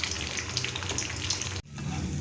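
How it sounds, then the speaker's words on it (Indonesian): Pempek dumplings made from wheat flour and tapioca fry in hot oil with a steady, close, hissing sizzle that cuts out for a moment and then resumes. "Ini aku sudah panaskan minyak dan kita goreng pempeknya ya."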